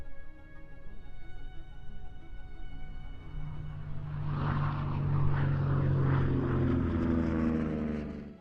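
P-47 Thunderbolt propeller fighter aircraft flying in formation, its engine drone steady at first, then swelling louder with a rising roar as planes peel off at intervals; no voices.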